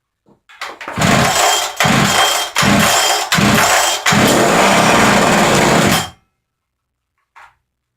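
Makita DPC7321HD concrete saw petrol engine pulled and started, several loud rough bursts that catch and run steadily for a few seconds before cutting out, followed by a faint brief noise.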